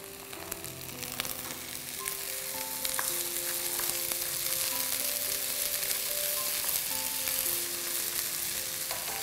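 Onion masala sautéing in a hot pan, a steady close sizzle with faint scraping stirs, continuous and fairly loud over soft background tones.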